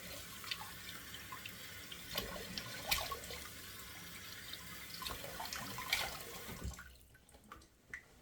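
Cold tap water running into a sink for a face rinse after a shave, splashing and gurgling steadily at moderate distance, with several sharper splashes as hands scoop water, then quieting near the end; no speech.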